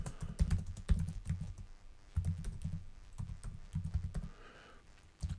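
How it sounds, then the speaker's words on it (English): Someone types on a computer keyboard in quick bursts of soft clicks with short pauses between them, close and fairly quiet. "if I just start typing, I get a paragraph by default"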